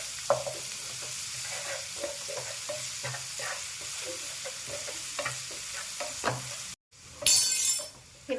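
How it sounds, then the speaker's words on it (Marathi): Chopped onions sauté in a pan with ginger-garlic paste, a soft sizzle under regular scraping stirs of a spoon, then a brief gap and a louder burst of frying. "दोन कांदे कापून घेतले होते ते टाकून घ्यायचे आहे आणि परतून घ्यायचे आहे"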